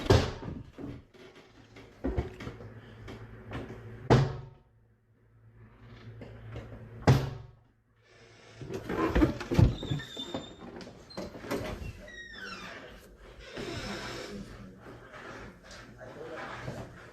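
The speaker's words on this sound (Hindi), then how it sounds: "दरवाज़ा अपने आप खुलने और बंद होने लगता है" A door swings open and shut repeatedly in an empty house, a series of sharp knocks and creaky scraping sounds spread unevenly over the span, with soft background noise between them.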